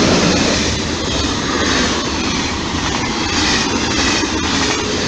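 A TGV high-speed train rushes past at close range, a loud, continuous broadband roar that holds steady throughout.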